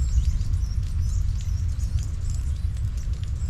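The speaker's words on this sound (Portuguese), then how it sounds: "chove aqui na Cabana dos Sonhos" Rain falls steadily at the porch of a cabin, a soft continuous patter with low rumbling beneath and a few faint chirps above.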